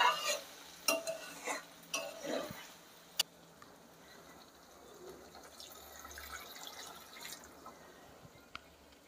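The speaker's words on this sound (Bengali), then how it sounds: "এবার অল্প অল্প করে জল দিয়ে একটু কষে কষে নিয়ে জলটা ঢেলে দেব।" Potol paneer masala, a pointed gourd and paneer curry, is stirred in a pan as water is added: a few soft spoon clinks and splashy pours at first, then a faint low simmer, quiet and close.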